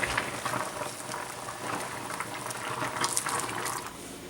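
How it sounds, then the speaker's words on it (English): Cattail on the cob cooks in a pot of boiling water outdoors, a steady close bubbling and roiling churn that continues evenly throughout with no voices. "cooking our cattail on the cob"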